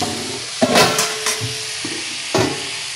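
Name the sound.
mixed vegetables frying and being stirred in a pan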